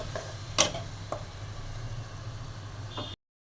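A spice paste sautés in a pan with fried fish nearby, giving a low, soft sizzle broken by a few faint scrapes and taps of a spoon before cutting off abruptly.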